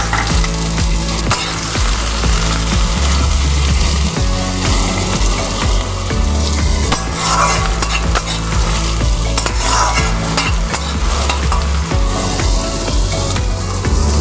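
Whole cumin seeds and chopped onions frying in hot oil, a loud, constant close sizzle with stirring scrapes and occasional clinks of a utensil against the pan.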